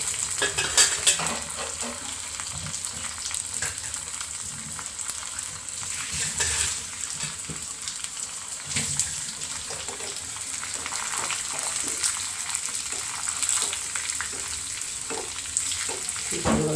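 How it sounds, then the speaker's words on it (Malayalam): Dried red chillies and curry leaves crackling in hot oil with onions in a pan: a steady, fairly loud sizzle with occasional spatula scrapes and light pops throughout. "ഇനി നമുക്കിതിനകത്തേക്ക് ഉണക്കമുളകും കറിവേപ്പിലയും കൂടി ഇട്ട് കൊടുക്കാം. അതൊന്ന് മൂക്കട്ടെ"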